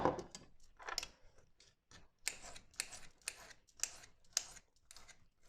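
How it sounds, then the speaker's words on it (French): Knife or scissors chopping leftover green beans in a home kitchen, a series of short crisp cuts in uneven bursts, close and fairly quiet, with no talking. "j'ai un reste de haricots verts. Donc je vais les couper."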